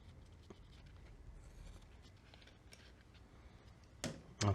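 Scissors snip through clear plastic while cutting around an outline during a Lego model build. Soft scratchy cuts are followed by two louder, sharper snips near the end, with no talking.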